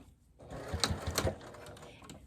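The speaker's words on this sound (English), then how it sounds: "we're going to start sewing right there" Short burst of a sewing machine stitching a microwaveable fabric bowl cozy, a quiet close mechanical whir with a few quick rattling stitches.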